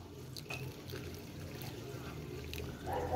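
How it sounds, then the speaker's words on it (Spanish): Water poured onto fast-draining cactus soil during fertigation, a steady soft trickling and seeping wash that swells slightly near the end, with no voices. "Que así como echamos el agua, así mismo baja"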